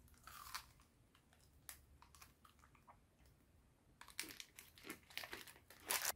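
Someone bites into a crunchy hazelnut chocolate wafer bar and chews it close to the mic. Crisp crackling bites are followed by softer chewing, grow louder toward the end and come with light wrapper crinkles.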